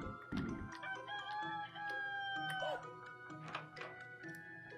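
Rooster crowing in an RPG adventure game, a clear synthetic cock-a-doodle-doo with a drawn-out call over steady game music, loud and close.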